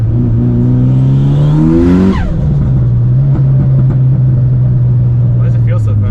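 A Mitsubishi Evo VIII running on E85 fuel revs up loud and close from inside the car, the engine climbing in pitch, dropping at a gear change, then pulling steadily again.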